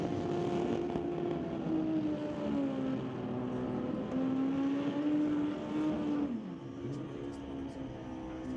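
Two Pro Mod drag motorcycles, a Honda CBR 1100 and a Suzuki Hayabusa on a street tire, roll through the water box: loud sustained engine drone with shifting pitch, fading as they move off.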